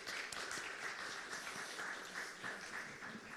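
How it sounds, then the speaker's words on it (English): Fairly faint, steady applause from a symposium audience at Hofstra University thanking a panel of speakers, many hands clapping together in an even wash that carries on throughout. "Let's give all our speakers a round of applause"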